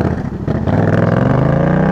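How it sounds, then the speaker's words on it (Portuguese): Two-cylinder motorcycle engine rumbling at idle and lifting slightly, a loud, close, uneven pulsing throb that runs steadily without pause and carries no talk over it. "É a minha moto, lembrando que ela é uma moto de 2 cilindros. Por isso tem esse som"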